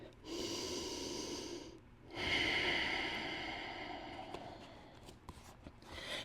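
Deep breaths during a vinyasa yoga session: two long, close, audible exhales, the second louder and drawn out, followed by soft rustles and faint clicks.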